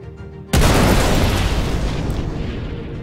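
Size 4 missiles strike a spaceship in the Star Citizen video game, setting off one loud, close explosion that booms suddenly and then rumbles on without fading.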